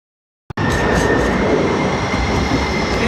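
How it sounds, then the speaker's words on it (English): A train rolls past close by near Seattle-Tacoma International Airport, arriving abruptly with a loud, steady broadband rumble and rattling wheels that holds at full strength throughout. "when the train goes, I hate this"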